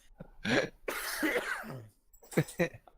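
A man imitates a character's laugh ending in a cough: a few rough, throaty coughing bursts close to the microphone, separated by short pauses.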